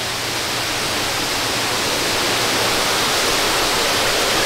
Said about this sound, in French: on a un niveau sonore avec les cascades qui met une belle atmosphère